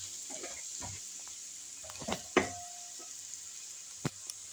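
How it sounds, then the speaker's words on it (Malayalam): Curry leaves sautéing in hot oil for chicken curry, giving a steady faint sizzle with a few sharp crackles and spatula knocks against the pan. "കരിവേപ്പില അതിൽ കിടന്നൊന്ന് വഴലട്ടെ. ചെറുതായിട്ടൊന്ന് വഴറ്റാം."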